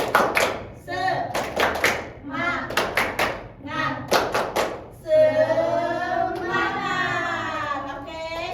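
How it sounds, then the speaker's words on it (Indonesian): A micro-teaching class does the rhythmic 'tepuk semangat' clapping chant, with sharp grouped claps alternating with shouted chanted words, then a sustained called-out voice; loud and close. "Nah, gini ya, tepuk semangat."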